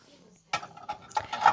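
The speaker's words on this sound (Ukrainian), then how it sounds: "Тарілка керамічна квіти для салату." Ceramic salad plates with a flower pattern are handled in a shop, giving several close clinks and clatters in an irregular sequence after a quiet start, with soft voices in the background.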